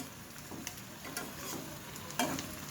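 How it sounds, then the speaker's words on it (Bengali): Potato and pointed gourd pakoras in a nigella-seed batter deep-fry in oil with a soft, steady bubbling sizzle, broken by a few light stirring clicks and one louder spatter near the end. "আমি কিন্তু অনেক সময় নিয়ে ভাজছি"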